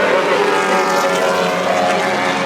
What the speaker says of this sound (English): here it is, heading around the track, and it's just fantastic. So you watch it here, this big 6-cylinder at the end of the straight